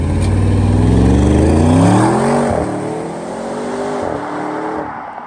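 An Audi RS6 engine revs loudly, the pitch climbing and then dropping off, with sputtering exhaust pops and crackles as the revs fall.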